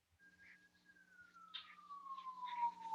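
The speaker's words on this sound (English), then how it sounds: "I heard sirens outside." A single siren wails outside, one long falling tone that stays fairly faint and distant, with light background noise and no talking.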